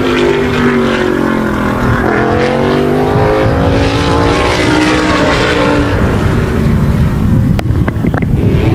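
A Wall Modified race car screams around the Wall Stadium speedway on a time-trial lap, engine loud and close, pitch rising and falling through the turns, with sharp cracks near the end.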